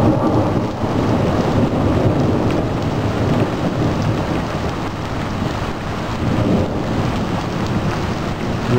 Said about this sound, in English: The rain is chilling out some now, as has the wind.